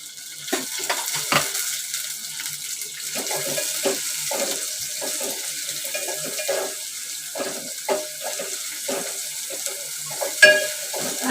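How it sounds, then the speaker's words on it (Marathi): Onion and curry leaves frying in hot oil for a cauliflower and potato curry, a steady sizzle broken by repeated scraping and stirring knocks of a spatula in the pan, with no one talking. "कांदा आणि कढीपत्ता भाजून घेते"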